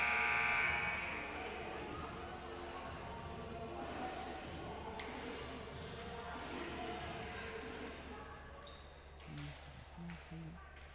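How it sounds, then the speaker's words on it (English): A loud electronic buzzer blares for about a second at the start of a women's volleyball match, then gives way to gym crowd noise and squeaking shoes. "The buzzer sounds."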